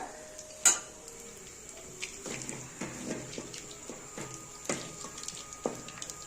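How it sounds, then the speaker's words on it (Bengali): Whole spices—bay leaf, cinnamon, clove, cardamom and a dry chilli—crackle in hot oil for a tempering, soft sizzling broken by scattered spatula scrapes and clinks against the pan, with one sharp metallic tap near the start, no voices. "তো এর মধ্যে তেজপাতা, দারচিনি, লবঙ্গ, এলাচ আর একটা শুকনো লঙ্কা ফোড়ন দিলাম"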